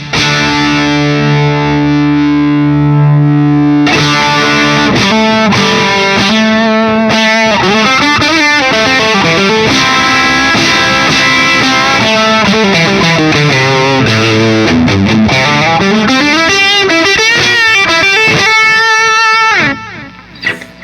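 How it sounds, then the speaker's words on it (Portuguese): A Telecaster single-coil electric guitar runs through both a delay and a distortion pedal, giving a loud, gritty sustained chord followed by a long run of overdriven notes with echoing repeats. It plays for about twenty seconds, alone with no talking, then stops abruptly. "Com o delay ligado, vou ligar a distorção."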